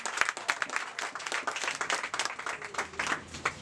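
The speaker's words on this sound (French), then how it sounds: "On acclame très fort le Seigneur." A church congregation claps loudly to acclaim the Lord, a crisp, uneven burst of individual hand claps filling the room without pause.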